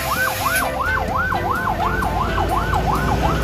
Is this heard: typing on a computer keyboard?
no